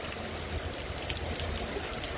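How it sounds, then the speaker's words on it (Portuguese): Rain falls steadily in Santana do Ipanema, a dense, even hiss of drops and trickling water, continuous and fairly faint throughout. "hoje graças a Deus continua chovendo aqui em nossa cidade"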